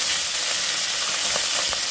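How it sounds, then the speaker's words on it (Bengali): Fish frying in a pan, a dense, even sizzle of hot oil heard up close and alone, with a few soft crackles and pops standing out near the end. "কয়েকটা মাছ হলো আলাদা করে একটু ভাজি করে দিচ্ছি"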